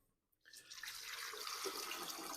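Water runs into a pot to make a brine, starting after a brief quiet moment and continuing as a steady, close, splashing rush that fills the rest of the clip.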